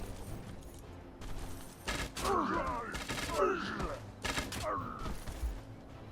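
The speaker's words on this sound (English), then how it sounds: "let's stun them and then we'll shoot them down" Gunfire from units shooting at enemies during a siege battle in the Age of Wonders 3 strategy game, a few bursts of shots and impacts mixed with game effects and a steady background bed.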